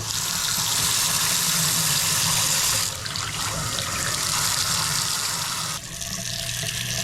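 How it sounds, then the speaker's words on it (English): Water runs steadily from a Moen kitchen faucet with a broad hissing splash, shifting slightly in tone twice as the flow changes, no voices. "So we have the sinks on. I can turn on the water."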